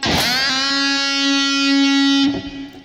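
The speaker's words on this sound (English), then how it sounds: "you also have to push down the tremolo bar so it goes lower than the forthcoming note" Electric guitar note dipped low with the tremolo bar and released into a pull-off on the same note, from a guitar solo, a single bright note ringing about two seconds, loud and alone.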